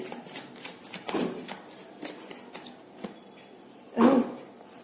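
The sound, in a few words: shuffling tarot cards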